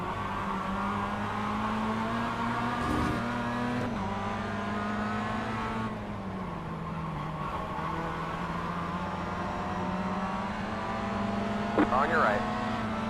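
Mazda MX-5 race cars in the iRacing sim roar steadily throughout, engine notes rising and dipping as they pull away from a pursuing car, with a brief tire squeal near the end and a driver talking over the racing.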